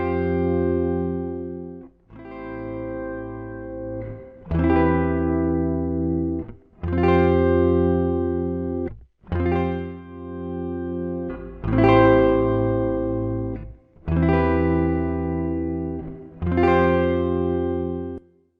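Mixed music track playing back with a stepped, sustained harmonic texture in repeated bars, while an automated reverb send gradually shifts the amount of ambience; steady, full level with no voices.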